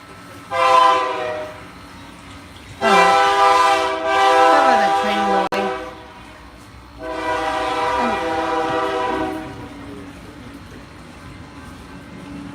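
A train sounds its horn in repeated long harmonic blasts, roughly three of them, loud and fairly close, while passing by, with rumbling rail noise between the blasts.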